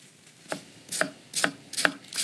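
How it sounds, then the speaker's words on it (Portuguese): A knife chops tomato, pepper, onion and garlic on a cutting board in a cooking segment. Five or six sharp, separate cuts land at an uneven, unhurried pace, close and clear, with no talking. "vamos picar tomate, pimento, cebola e alho"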